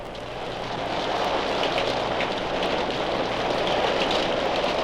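Rain falls steadily as a sound effect on a 1968 children's story record, a dense continuous hiss of drops that swells slightly and holds at an even level, with no voices.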